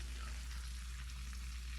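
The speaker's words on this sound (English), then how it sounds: "I got one more batch over there frying." Breaded squash fries in a cast iron pan with a steady, soft crackling sizzle and low background hum, continuous and unbroken with no talk.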